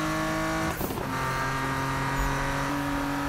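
Sports car in the video game Need for Speed (2015), its engine droning steadily, with a brief burst of exhaust crackle and pops near the start, then a sustained engine tone.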